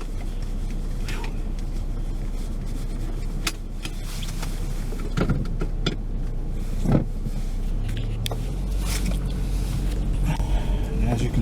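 A Saab 9-3 rolls along a dirt road, giving a steady low cabin rumble with occasional knocks and rattles, heard from inside the car while a person talks over it.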